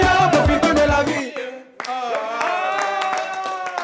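Studio audience applause from a French TV show, a dense burst of clapping mixed with music and voices, loud and continuous after a brief dip.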